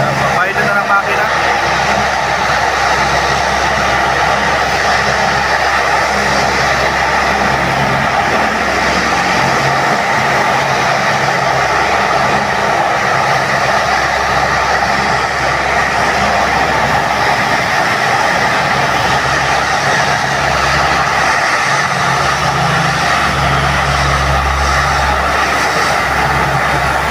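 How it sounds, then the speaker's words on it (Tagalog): A Philippine Air Force aircraft engine roars at an airport, a loud, unbroken, heavy rumble that holds steady for nearly half a minute, with voices talking over it. "Ang lakas ng ugong ng Philippine Air Force."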